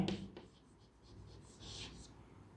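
Someone writes on a board during a chemistry lesson, making faint, quick scratching strokes in short runs separated by brief pauses.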